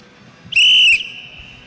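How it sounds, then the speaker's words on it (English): A referee's whistle at the start of a short track speed skating race, one sharp, loud, shrill blast lasting under half a second over quiet arena ambience. "And as we hear the whistle, skaters will go to the start line."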